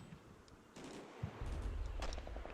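Mortar fire in a wargame, heard as a couple of distant muffled blasts and rumbling impacts followed by a low continuous roll of explosions, fairly quiet overall.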